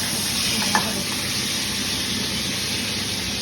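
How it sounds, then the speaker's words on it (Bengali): Fish frying lightly in hot oil while being stirred, a steady close sizzle and crackle running throughout with one brief clink near the start. "যাই হালকা ভেজে তুলে নেবো তেলের মধ্যে দেখো নাড়িয়ে"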